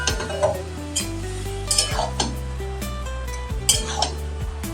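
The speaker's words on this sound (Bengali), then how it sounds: "আবার একটু ভালো করে সব মিশিয়ে নিচ্ছি।" A utensil stirs and mixes fish heads with other ingredients in a metal pot, giving repeated scraping and clinking strokes over a low sizzle, close and fairly loud.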